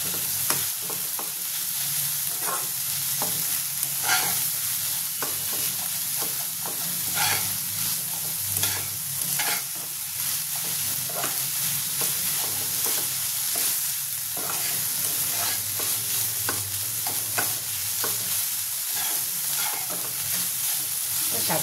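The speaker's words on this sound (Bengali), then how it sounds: "ভালো করে নেড়ে দেবো।" Red amaranth greens frying in a pan while being stirred, a steady close sizzle under repeated scraping and clacking strokes of a spatula, with no talk.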